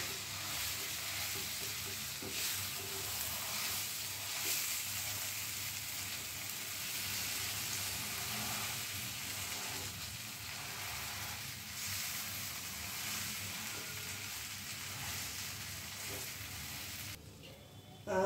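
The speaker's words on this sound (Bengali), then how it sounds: "পুরো মিশ্রণটা একসঙ্গে ভালোভাবে কষিয়েও নিয়েছি।" A chicken and potato mixture frying with spices in a pan, a continuous, even sizzle with occasional stirring scrapes, steady and moderately quiet throughout.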